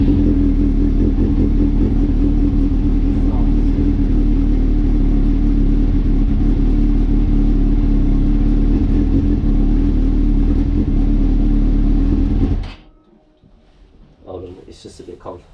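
Suzuki GSXR 600 SRAD motorcycle idling cold through a GSXR exhaust can: a steady, loud, close engine rumble that runs unbroken for about twelve seconds, then cuts off to near quiet with faint sounds after.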